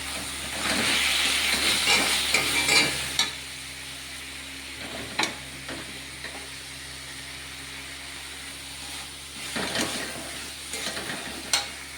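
Spice paste with green chilli paste and red chilli powder fries in a small amount of oil in a pan, loud crackling sizzle at first that settles into quieter hissing broken by sharp stirring clacks.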